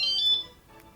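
A bicycle alarm system gives a short, bright electronic beep as it arms, a close, clear tone that stands alone and then drops away into quiet.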